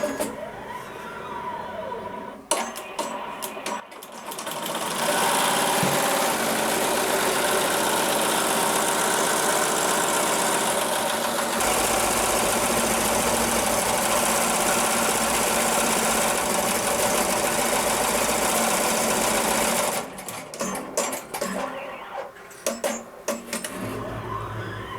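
A Melco embroidery machine stitches a monogram onto a beach towel, a loud, fast, steady mechanical whir and rattle running for about fifteen seconds, with quieter clicks and handling before and after.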